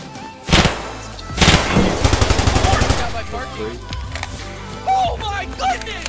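Loud video game gunfire from an online shooter sounds in sharp single shots and a fast automatic burst, up close, while a player talks excitedly over the action.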